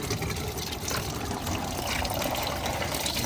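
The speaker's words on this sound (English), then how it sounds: "Now you have coolant that's gonna come out of those hoses." Coolant drains out of the oil cooler hoses on a 2013-2017 Hyundai Genesis Coupe 2.0T, a continuous close trickle and splash of liquid into a catch container.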